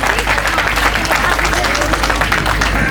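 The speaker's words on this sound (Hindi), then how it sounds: "हम उनको अपने दरमियान खुश आमदीद कहते हैं आपकी जोरदार तालियों में" Wedding guests at a Christian nikah ceremony clap steadily to welcome the parish priest, a dense, continuous applause of a large crowd filling the room without pause.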